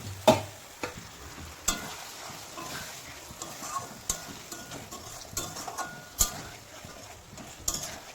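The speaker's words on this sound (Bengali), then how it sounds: "এখানে আলু দমের মশলা হয়ে গেছে। এবার ভেজে রাখা আলুগুলো দিয়ে দিলাম।" Fried potatoes being stirred into a sizzling aloo dum masala in a pan, a soft background sizzle broken by repeated clinks and scrapes of a spoon against the pan.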